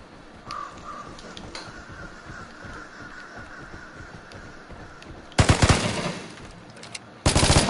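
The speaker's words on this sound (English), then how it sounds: "Zach, was that you shooting at me?" Gunfire in the video game Vigor: after a quiet stretch with bird calls, loud dense bursts of rapid shots erupt close by, pause, then resume at the end.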